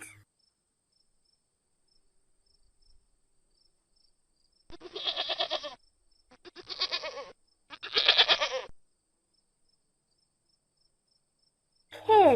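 A goat bleats three times in a row, each call a short, wavering, nasal cry with brief gaps between, clear and close against a quiet background.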